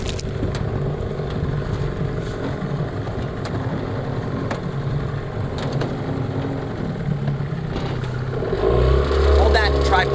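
A 1998 15hp Johnson outboard motor idles and is then kicked up slightly above idle, a steady close mechanical drone with an intermittent running fault that swells louder near the end, with brief talk over it.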